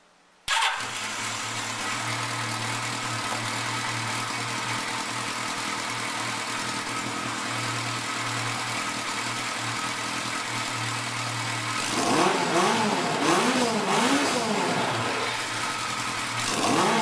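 A Kawasaki KZ1100 motorcycle engine in a bobber build fires up and settles into a steady, close idle, then is revved several times in rising and falling surges before easing back down.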